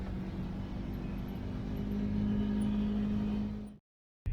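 A Kawasaki KRX 4 side-by-side cruises over Glamis desert terrain, giving a steady, moderately loud engine drone with a faint whine that lifts slightly midway, then cuts off abruptly for a brief silence before a short return.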